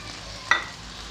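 Chopped capsicum dropped into a pan of vegetables frying with garlic, a brief sharp sizzle and clatter rising over a steady low frying hiss.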